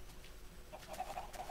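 Chickens cluck faintly in a Minecraft automated chicken farm, a few soft, brief calls scattered over a quiet background hum.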